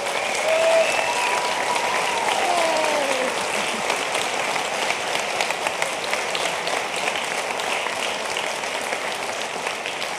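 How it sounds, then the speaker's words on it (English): A big conference crowd at the DrupalCon Vienna 2017 closing session gives sustained applause for the camp organisers, with thick, continuous clapping that holds at a steady level for around ten seconds and a faint voice briefly above it early on. "I would like us all to give all of these camps a big round of applause"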